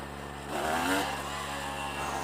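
A Honda CRM 250 two-stroke motorcycle revs hard during a power wheelie, its buzzing engine note swelling briefly then holding a steady, raspy drone, close and loud with no talk.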